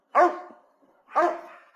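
Dogs in a backyard bark twice, about a second apart: two sharp, fairly loud barks, each trailing off, with no talking.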